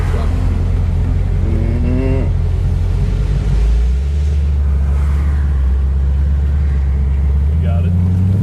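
A tow truck drives along a vintage car parade route at the Lime Rock Historic event, its engine rumbling low and steady nearby, with brief voices in the background.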